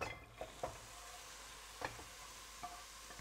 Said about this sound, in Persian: اول پیاز رو بریزم که سرخ بشه